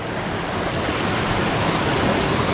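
Creek current rushing beneath a bridge, a steady, dense wash of flowing water that stays close and even throughout, with no voices.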